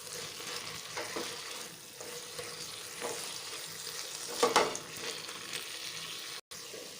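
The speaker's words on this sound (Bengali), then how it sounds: "1/2 চামচ সর্ষে বাটা দিলাম, দিয়ে ভালো করে মিশিয়ে দেবো" Spoon stirring coriander and mustard paste into a frying bottle gourd leaf and stem curry, a steady close sizzle with scraping strokes and a sharper clatter near the middle.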